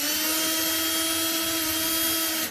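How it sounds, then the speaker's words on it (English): Power drill drives a screw into drywall with a steady, continuous whirring whine, loud and close with no pauses. "we go ahead and drill this screw in"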